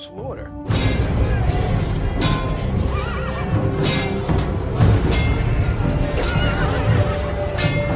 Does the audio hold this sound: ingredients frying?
no